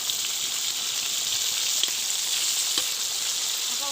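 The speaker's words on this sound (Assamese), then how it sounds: "পূৰা মাছ ভাজি থকা হৈছে" A whole fish frying in hot oil gives off a steady, even sizzle with a faint bubbling crackle, close up and without any voices.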